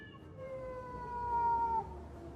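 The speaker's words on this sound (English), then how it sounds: "I just searched cats fighting sound effect on YouTube." A recorded cat-fight sound effect played back: one drawn-out, wavering feline yowl that rises and sustains before cutting off, heard moderately over faint background noise.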